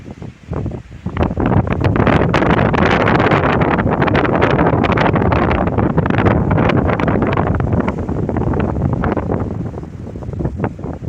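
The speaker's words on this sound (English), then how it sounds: "the wind is probably ruining the sound" Strong wind buffets a microphone outdoors on a stormy evening in Torrevieja, making a loud, continuous roaring rumble that swells and gusts for the whole stretch.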